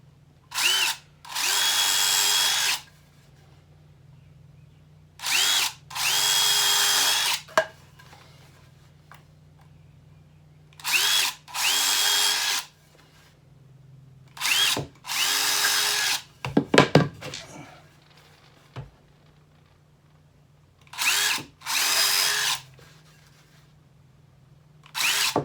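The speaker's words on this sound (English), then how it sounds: "Yeah, little drill bit." A power drill whirs in repeated bursts of a few seconds each, loud and close, separated by quiet gaps with occasional clicks and knocks.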